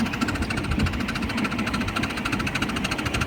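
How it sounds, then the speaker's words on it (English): A small miniature railway locomotive engine chugs steadily and close by, working hard pulling seven carriages, a rapid, even mechanical knocking with a constant hum, running alone without pause. "I don't know if you can hear me over the engine, it's working quite hard."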